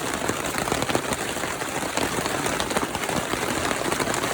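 Rain falls steadily over a campsite, a broad unbroken hiss of drops with light irregular ticks, close and constant without speech.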